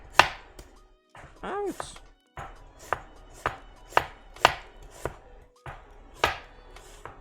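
A knife chops repeatedly on a cutting board while food is sliced for a prawn dish, about a dozen crisp, evenly spaced thunks at close range, with a short spoken exclamation and a brief squeak midway.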